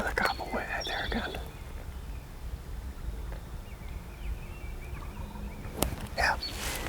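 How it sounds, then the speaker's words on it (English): Faint wild turkey gobbles carry from far away on public land in Wisconsin, once at the start and again near the end, with soft outdoor background noise in between. "I faintly heard another gobble way out there again."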